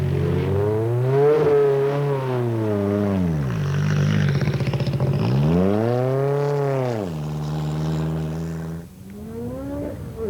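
A Peugeot 205 rally car with an almost 600-horsepower engine climbs Pikes Peak. The engine revs loud and close, rising and falling in pitch through several gear changes, with a snarling roar and no voices.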